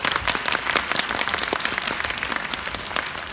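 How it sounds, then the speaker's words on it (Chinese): Theatre audience applauding a xiangsheng comedy duo on stage in Beijing, a dense, steady wash of many hands clapping at close range with no voices over it. "谢谢大伙儿掌声"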